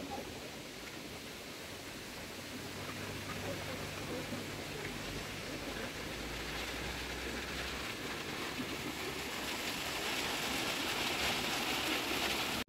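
Steady broadband rush of falling water from a waterfall near Toronto, Ontario, constant and fairly loud, slowly swelling over the span with faint voices underneath.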